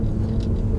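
A Peugeot 407 Coupé V6, recently converted to a manual gearbox, drives along with a steady low engine and road rumble heard from inside the cabin, continuous and moderately loud for a brief moment.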